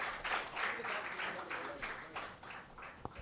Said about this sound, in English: A big round of applause for her